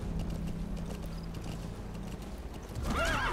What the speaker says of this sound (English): Go, horse.